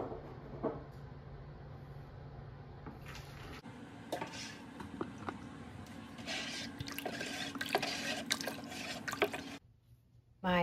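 Washing soda stirred into water in a bucket for homemade laundry soap, with faint sloshing, light drips and clinks against the container, no talk.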